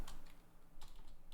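Someone types on a computer keyboard in a short run of quick keystrokes, close and fairly clear, each tap a crisp click, with no voices.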